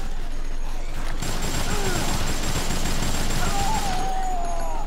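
Dense, loud bursts of automatic gunfire fill a shootout in the zombie video game Dead Rising, roaring without a break alongside constant crashing and clatter, with no speech in the moment.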